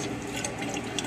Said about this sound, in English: we're going to rinse off all the grit into the previously mentioned bucket